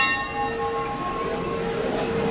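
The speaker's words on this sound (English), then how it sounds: "Oh, there goes the bell." A bell rings at a theme park ride at Europa Park, a sustained ringing tone with steady overtones over continuous crowd and ride background noise, close and fairly loud.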